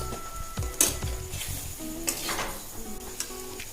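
Potato and pointed gourd being stirred in a frying pan, with scraping and clinking of a spoon against the pan over a low sizzle, a few sharper knocks standing out.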